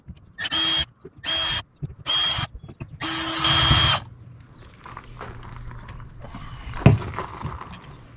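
A power driver backing screws out of an old RV door handle on a 2021 Aspen Trail 1950BH travel trailer: four short whirring bursts with pauses between them, then quieter rattling and handling noises, close up with no talking.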